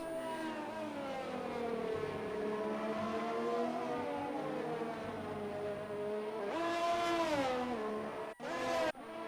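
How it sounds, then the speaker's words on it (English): A McLaren race car engine in a racing video game holds a steady high whine through a long corner, then revs sharply up and cuts out briefly near the end, loud and close with no talk. "We have a McLaren Zinav in the final corner now, dropping through Sector 2."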